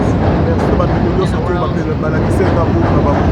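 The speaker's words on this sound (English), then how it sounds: "And that sound is our train." A loud, steady rumble of a Chicago elevated train passing fills the whole clip, broad and continuous with faint higher squeals drifting over it.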